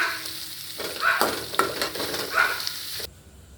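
Chicken and onions sizzle and fry in a pan, a steady close hiss with a few scraping stirs, ending abruptly.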